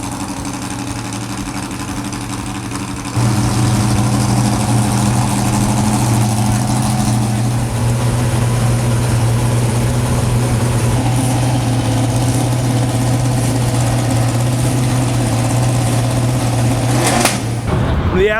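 Cars sit in the grid area at the Goodwood Festival of Speed 2017, where a loud, steady engine drone fills the air, rises to a stronger idle after a few seconds and ends with a brief rev.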